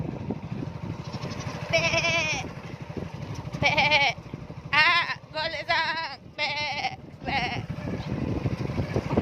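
Goats in rural Assam bleat repeatedly, several loud wavering calls in quick succession over low rumbling background noise.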